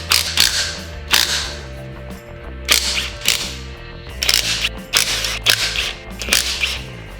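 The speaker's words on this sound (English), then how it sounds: "Now we're going to start working on the clutch cover case, removing these bolts that hold it on." Bolts being loosened from the clutch cover case of a small pit bike engine during teardown, with a series of sharp, close cracking snaps in irregular bursts, likely an impact driver or ratchet, no talk.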